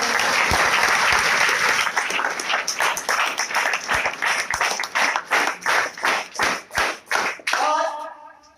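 A seminar audience claps loudly and densely, the applause thinning into slower, distinct rhythmic claps before fading out at the end.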